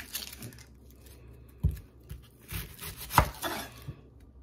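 A knife chopping a small onion on a board, a few separate cuts spaced irregularly, close and fairly quiet, with no voice over them.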